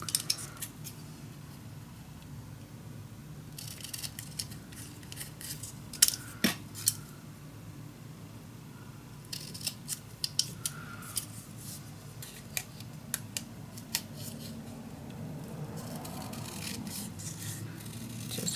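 Scissors snip through paper for a scrapbook folio in a quiet room, with scattered close crisp cuts in short bursts and soft rustling and handling between them.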